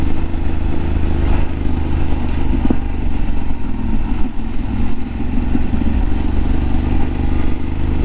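A motorcycle engine brakes down a steep hill on an adventure ride, giving a loud continuous low drone with steady mechanical rumble and clatter throughout, close to the microphone and without speech.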